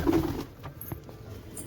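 Pigeons give a brief, soft, low coo close by, then go quiet over faint background noise.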